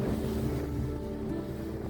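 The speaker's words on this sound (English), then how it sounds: "Calm winds, gentle waves" Gentle ocean waves and calm wind at sea off western Norway near the Sognefjord, a soft, steady wash with low rumble and faint boat hum, continuous and without talk.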